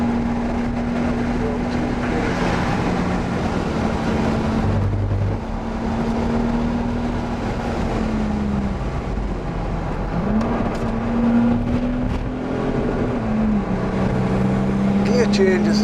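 An Audi A5 3.0 TDI Quattro diesel engine drones and revs on the Donington Park track, a steady low hum that rises and falls with gear changes, heard from inside the car over road and wind noise.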